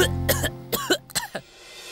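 A few sharp, harsh phlegmy coughs come in quick bursts, close and fairly loud, with short pauses between them.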